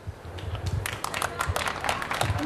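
Audience applause at a live comedy show by Lakis Lazopoulos in Larissa: a ragged burst of clapping from a crowd, fairly close and steady, mixed with murmuring voices throughout.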